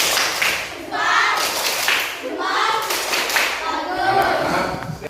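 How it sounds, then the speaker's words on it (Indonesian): Schoolchildren in a primary classroom doing the thumb clap (tepuk jempol), a loud rhythmic group clapping in bursts with chanting children's voices throughout. "Sekarang tepuk, kasih tepuk jempol untuk semuanya."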